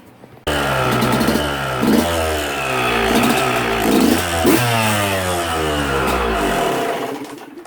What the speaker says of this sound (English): Okay, let's start the bike up.